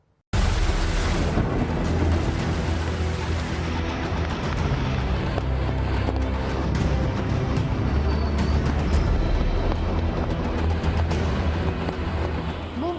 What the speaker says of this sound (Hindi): मुंबई बारिश से तरबतर है।